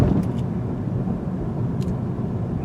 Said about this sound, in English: we're going to take some mild speed bumps, or humps if you want to call them that, 20 miles per hour